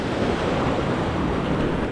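Large waves break and surge continuously near a beach breakwater in Ras Al-Khaimah, a loud, steady roar of surf mixed with wind buffeting the microphone, with no voices.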